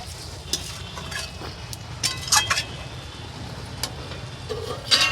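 Chicken pieces being stirred and fried in a pot, with a steady low sizzle and scattered scrapes and clinks of a utensil against the pot, close and fairly quiet.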